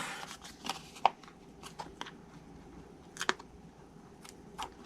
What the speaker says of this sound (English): we're going to actually cut one of them in half